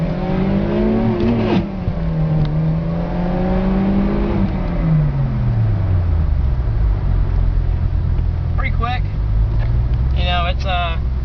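A Volkswagen Corrado G60 engine pulls hard in second gear from inside the car, its loud drone climbing and shifting in pitch before easing off, with brief speech near the end.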